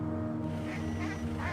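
Ducks on a road near a remote mountain village in China quack in a few quick, loud calls close by, over a steady low hum.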